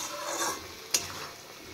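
Turmeric and dried red chili fry in oil in a pan with a soft, continuous sizzle while a utensil stirs, and one brief metallic clink stands out. The sound is close and lasts under two seconds, with no voices.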